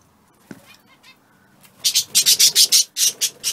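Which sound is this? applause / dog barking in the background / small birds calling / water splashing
small birds calling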